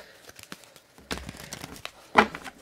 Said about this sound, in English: Let's do a little shuffle each side three times